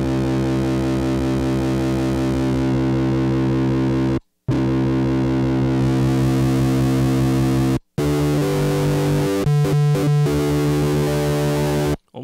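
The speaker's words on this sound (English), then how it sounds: "It is an overdrive first and foremost, but it has enough gain on tap to sound like a distortion." Heavily driven tone from a Small Sound Big Sound Mini overdrive pedal set to high gain, giving a sustained, distortion-like buzz of held synth notes with short gaps between phrases and a choppier rhythmic passage near the end.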